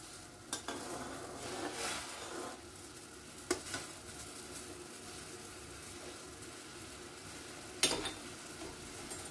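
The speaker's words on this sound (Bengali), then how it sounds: "দেখুন কি সুন্দর জলটা টক বগিয়ে উতরাচ্ছে।" Water boils in a pot for rice-flour chushi pitha, a low, continuous bubbling hiss with a few faint clicks and taps from the pot.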